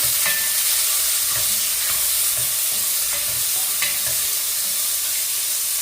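Tomatoes frying together with prawns and eggplant in a pan for a prawn-eggplant gravy, giving a loud, steady sizzle with periodic scraping stir strokes close by, no voices.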